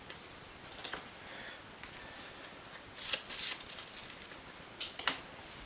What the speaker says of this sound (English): All right, so we'll shuffle these.